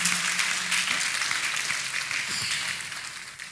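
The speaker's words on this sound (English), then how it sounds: "Can you clap louder, clap beautiful for Master of Masters?" Audience applause at a religious gathering, dense sustained clapping from many hands that stays loud before gradually thinning toward the end.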